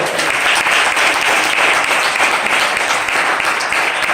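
A church congregation claps loudly and steadily during a sermon, a thick, continuous wash of hands with no voice over it.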